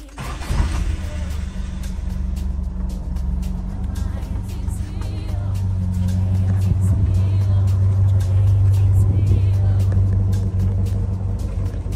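The warmed-up engine of a Venture van running steadily, a low, smooth rumble heard up close that grows slightly louder and deeper partway through.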